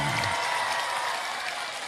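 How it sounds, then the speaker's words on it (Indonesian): Many people clap together at a Dedi Mulyadi speech in Indramayu, producing a sustained, even roar of applause from a large crowd that holds steady for the whole stretch. "Iya, semuanya tepuk tangan."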